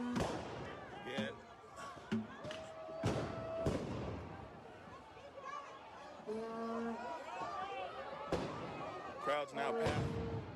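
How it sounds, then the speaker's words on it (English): Scattered explosions thump and crack behind a passing crowd by a city police precinct, sharp bursts spaced irregularly over continuous chatter and distant voices. "Explosions can be heard behind us."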